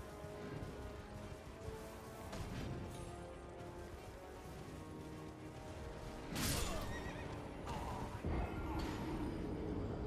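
A horse whinnies in the Elden Ring video game, with a sharp neigh about two-thirds of the way through, hoof clip-clops and scattered game noise around it, and faint talk in the background.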